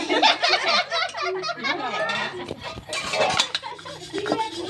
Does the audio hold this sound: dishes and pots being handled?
yes